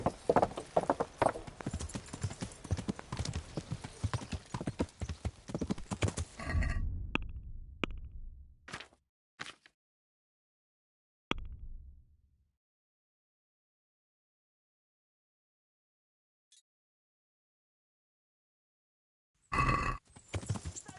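Horse hooves clip-clop in Kingdom Come: Deliverance, a busy run of steady hoofbeats under game sound for several seconds, then sparse isolated knocks and long silence before a brief final burst.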